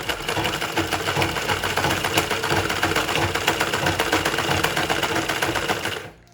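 A sewing machine stitches fabric in a fast, loud, continuous mechanical clatter during tailoring practice, running close and steady before stopping abruptly at the end.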